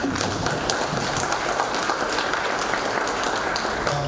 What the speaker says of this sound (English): Big round of applause for Dr. Maffei.